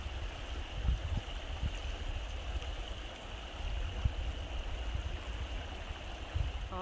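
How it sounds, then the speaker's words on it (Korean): Clear water flows and babbles steadily in a nearby stream amid ice on a freezing day, a soft continuous rush with faint gurgles and occasional light knocks. "저 맑은 물소리."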